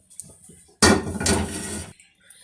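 A metal pot and utensils clatter loudly while chicken soup is strained, a sharp clanging burst lasting about a second after a quieter start, with faint clinks before and after.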